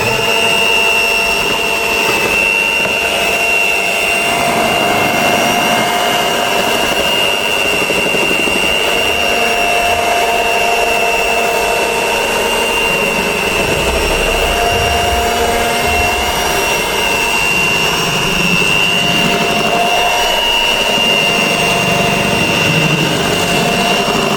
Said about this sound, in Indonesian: Mixer lagi nih.